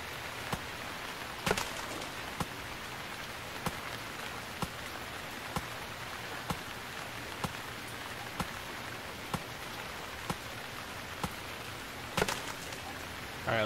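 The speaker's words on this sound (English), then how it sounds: "the rain is so soothing in this game" Steady rain falls in the survival video game Stranded Deep, a soft, even patter hissing throughout at low volume, broken by faint regular clicks and a couple of louder taps.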